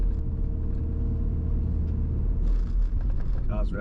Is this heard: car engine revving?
yes